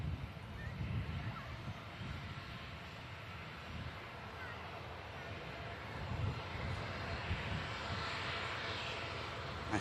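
A TUI airliner arriving from Zakynthos lands, giving a steady, moderately distant jet rumble that builds slightly in the second half, with occasional talk over it.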